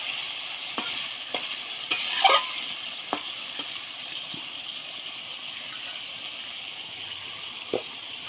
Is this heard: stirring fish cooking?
yes